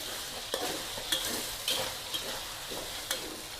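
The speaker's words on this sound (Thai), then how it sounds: "การจะทอดให้หมูมันมีสีเหลืองๆ สักหน่อยหนึ่งนะคะ จะได้ชวนกิน" Flour-marinated pork fries in a pan for garlic pork with egg, giving a steady soft sizzle broken by regular scrapes and clacks of stirring.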